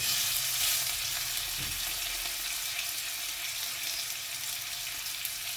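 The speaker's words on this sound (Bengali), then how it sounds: "তো আমি এখন বাটার দিয়ে ভাজবো" Fish frying in butter over medium heat in a pan, giving a steady, close sizzle with no talking.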